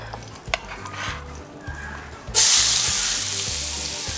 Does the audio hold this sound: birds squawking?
no